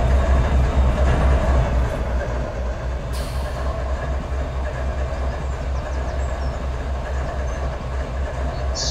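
CSX ES40DC locomotive in Trainz TRS19 rolls past with a steady low diesel rumble and rail noise, holding an even, fairly loud level throughout with a brief brighter hiss partway through.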